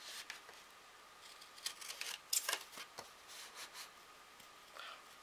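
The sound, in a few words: large scissors cutting paper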